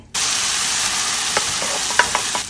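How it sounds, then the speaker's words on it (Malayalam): Curry is poured into a pan of fried coconut for a Vishu sadya dish, setting off a sudden loud sizzle that holds steady, with a few spoon scrapes and clinks near the end. "നമ്മളുടെ കറി ഞാൻ ഇതിലേക്ക് ഒഴിച്ചു കൊടുക്കുകയാണ്"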